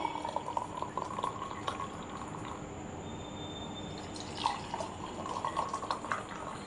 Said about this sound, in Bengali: চলো এখন এখন এই যে চাটা ছেঁকে নিই তিনজনের জন্য।